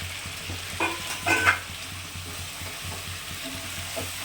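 Chicken biryani with spices and fried potatoes sizzles steadily in a pan, with a few louder stirring scrapes near the start and a low hum underneath.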